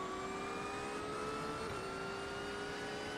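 GT3 race cars in the iRacing sim accelerate at the green-flag start at Watkins Glen, producing a faint, steady engine drone with rising tones and no talking.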